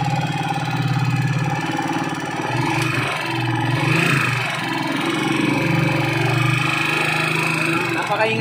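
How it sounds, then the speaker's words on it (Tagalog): Honda TMX155 motorcycle engine running with an unusually loud, rattly mechanical noise, steady idle with knocking clatter throughout, while someone talks over it. "Napakaingay ng tunog ng makina."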